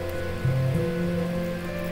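Rain falls in the Roblox game Adopt Me, a steady synthetic patter beneath sustained tonal game sounds, continuous and even across the short stretch.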